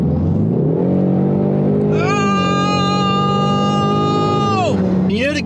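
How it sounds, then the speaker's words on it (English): A car engine is held near top RPM during a fuel treatment cleaning run, its loud, steady high-pitched whine climbing, sustained for a few seconds, then dropping back to a lower idle. "just keep it at the top RPMs for as long as possible"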